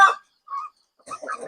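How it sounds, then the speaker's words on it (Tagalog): Domestic chickens kept as backyard pets give short, close clucks in two or three brief bursts separated by quiet gaps. "So ara ang duha ka mga alaga na akong manok. Ara mga kamanok ko."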